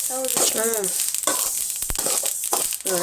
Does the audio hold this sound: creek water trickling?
no